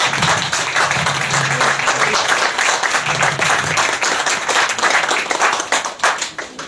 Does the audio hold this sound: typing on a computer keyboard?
no